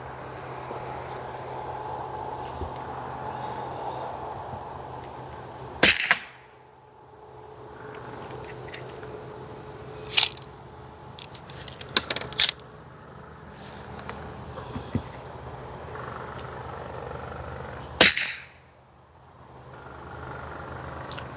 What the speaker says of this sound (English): We're going to shoot this suppressed and see what happens